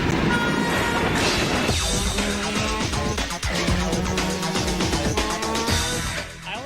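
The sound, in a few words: train passing and horn in N64 commercial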